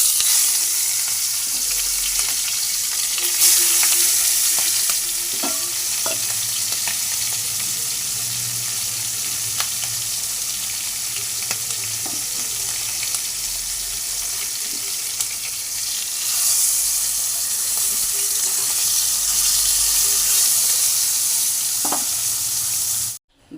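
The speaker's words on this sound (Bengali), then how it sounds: "এবার আমি এক এক করে মাছের মাথাগুলো ছেড়ে দিচ্ছি।" Hilsa fish heads fry in hot oil in a wok, giving a loud, sustained crackling sizzle with occasional stirring clatters, swelling louder toward the end before cutting off abruptly.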